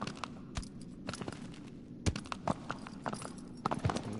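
Horse ridden in the video game Shadow of the Colossus, uneven clopping hoofbeats, close and fairly quiet, with a few sharper strikes, no talking.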